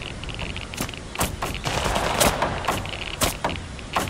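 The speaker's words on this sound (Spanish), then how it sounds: "Ellos siguen disparando." Enemies keep firing in the forest survival game The Last Haven, a steady stream of sharp gunshots cracking at irregular intervals over a constant noisy background, fairly loud and close.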